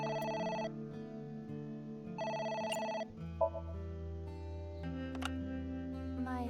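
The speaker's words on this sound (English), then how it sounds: "It's the phone." A telephone rings in the video game AI: The Somnium Files, with bursts of bright electronic ringing separated by pauses over layered background music, loud and close with no one talking.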